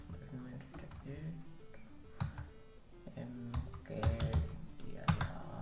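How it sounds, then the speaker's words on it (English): Typing on a computer keyboard at a console: quiet, irregular key clicks patter along, building into a denser burst of strokes near the end, with speech faintly present underneath. "Okay, let me type it."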